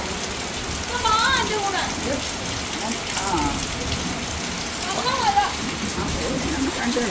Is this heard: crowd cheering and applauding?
no